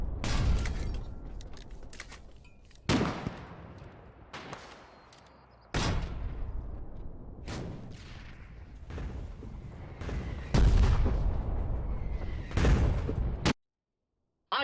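Artillery barrage in the online war game Foxhole, with about eight loud, heavy blasts at irregular intervals, each a sharp crack followed by a long rumbling decay, with a brief silence near the end.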